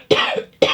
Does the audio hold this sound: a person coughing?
yes